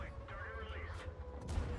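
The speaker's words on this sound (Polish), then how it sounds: "Jeszcze jeden strzał oddam." A tank's main gun fires in an online tank battle game, a loud boom against a busy backdrop of battle noise and engine rumble.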